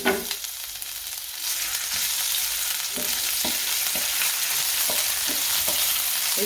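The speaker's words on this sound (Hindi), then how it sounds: "1 चम्मच इसके अंदर हम अदरक लहसुन का पेस्ट डालेंगे।" Ginger garlic paste frying in a spoonful of oil in a pan, a steady close sizzle with intermittent stirring clicks as it is sautéed.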